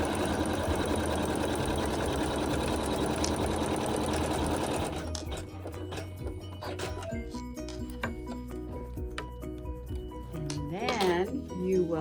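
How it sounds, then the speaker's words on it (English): An embroidery machine stitches a seam across fabric with a fast, steady mechanical whir that runs loud for about five seconds, then stops, leaving quieter clinks and handling noises. "you're just going to let the embroidery machine sew a seam"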